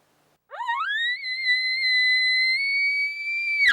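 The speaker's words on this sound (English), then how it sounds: "Gets that high pitch, just real shrill whistle." A single long, shrill, high-pitched elk bugle call that rises quickly, holds a steady whistling tone for about three seconds, then cuts off abruptly.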